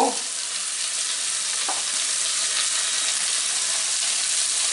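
Turmeric and red chili powder frying in a pan for Punjabi dhaba-style matar masala, a steady loud sizzle with a brief stir at the start and another scrape partway through.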